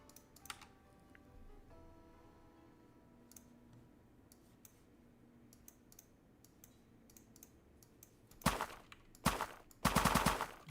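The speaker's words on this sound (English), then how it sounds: "here's my Hitmarker sound. It's falling onto dirt." Hitmarker sound effects from a custom C++ first-person shooter engine built without libraries: several sharp, loud, broadband bursts near the end after a stretch of quiet, faint clicking and low hum.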